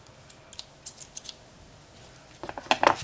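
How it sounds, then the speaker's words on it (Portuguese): A pair of school scissors is handled near the microphone, giving scattered light clicks and snips, then a quicker cluster of sharp metallic snaps near the end, with no talk. "eu tenho uma tesoura"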